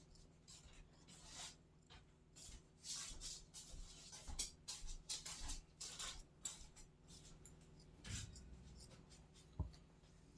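Scissors snipping through folded mitten fabric, a close, quiet series of irregular rasping cuts and rustles with brief pauses between strokes.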